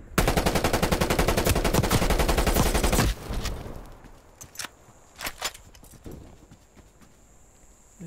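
Rapid automatic gunfire from a weapon in Call of Duty Black Ops Cold War rattles loud and close for about three seconds, followed by a few scattered single shots and clicks against a quieter game background.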